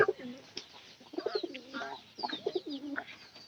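Soft, repeated coos from a native village pigeon close by, a steady run of low throaty calls in a quiet setting.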